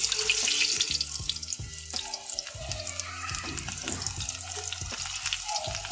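Bread and cabbage rolls shallow fry in oil in a pan, a soft continuous sizzle and crackle under clinks and scrapes of a utensil, with no talking.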